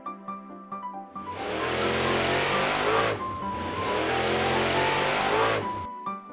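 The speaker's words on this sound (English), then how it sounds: "Monster racing car." A toy monster racing car revs hard in two long, loud engine surges between short musical tones at the start and end.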